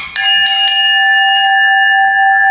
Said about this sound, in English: in the timekeeper's box, there is an old bell.